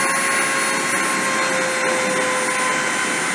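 A machine spindle whines steadily at 30,000 RPM, a loud continuous high-pitched hum with fixed tones and airy rushing noise, running without a break.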